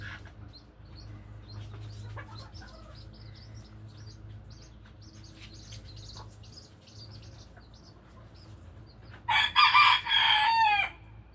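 Bantam and silkie chickens in a backyard homestead: soft scattered clucks and chirps over a low hum, then a louder, close burst of crowing near the end, with no talking.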